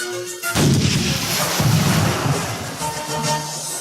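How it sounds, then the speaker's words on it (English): Deep, rumbling booms of cannonball explosions in water roll out after a sudden onset, with heavy sustained low-end thunder like distant cannon fire echoing. "The Nautilus shook from the explosions of the cannonballs in the water"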